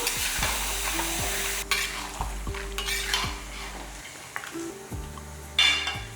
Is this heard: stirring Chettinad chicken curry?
yes